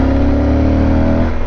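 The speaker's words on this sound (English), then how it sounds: "downshifting this bike, it gives you pretty decent engine braking" A Yamaha Super Tenere motorcycle engine drones loud and close as the rider downshifts, a steady low rumble under engine braking that eases and roughens near the end.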